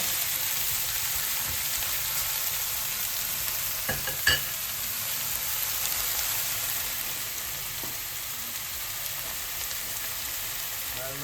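Batter or food frying in a pan until golden brown for Jaffna-style soft dosa, a steady soft sizzle throughout with a couple of brief clinks of stirring, no talk.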